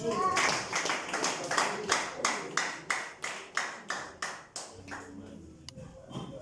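A church audience claps for Jesus in a burst of about a dozen sharp, evenly spaced claps that fade out near the end, with faint voices in the background.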